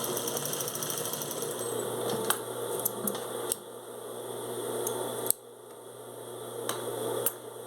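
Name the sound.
sewing machine stitching with backstitch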